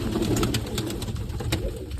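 Pigeons coo in a loft, several birds at once with soft overlapping rolling calls close by, plus a few sharper wing or foot noises. No one speaks.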